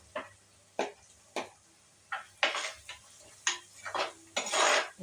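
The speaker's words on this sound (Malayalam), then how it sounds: "മഞ്ഞൾപ്പൊടി ഇട്ടിട്ട് ഇളക്കാം" Spoon stirring turmeric powder into fish curry in a pan, a series of soft, separate scraping clinks and rubs, quiet and irregular, roughly ten strokes.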